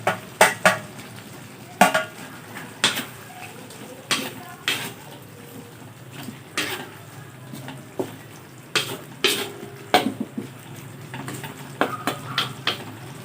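Carrots and green peas being stir-fried for Filipino igado in a home kitchen, with repeated clanks of a spatula against a pan over a soft sizzle and occasional talking.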